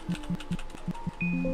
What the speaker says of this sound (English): Why is my keyboard not working? Because it's making that sound.